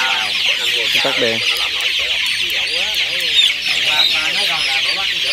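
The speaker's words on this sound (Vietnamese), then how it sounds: "Gà nó bị phân tán." A flock of 24-day-old chicks on a Vietnamese poultry farm peeps and clucks constantly in a dense, close chorus, with people talking briefly over it.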